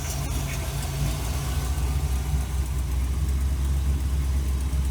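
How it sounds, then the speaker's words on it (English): A Ford truck engine idling in a shop, a steady low rumble that stays close and loud throughout, with only slight shifts in pitch as the idle drops and comes back up. "It does idle down, but it don't die. Watch it idle back up."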